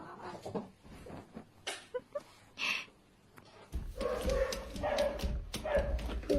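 A giant dog whimpers and yips in short, soft bursts with pauses between, followed by a stretch of louder rustling and shuffling movement close by.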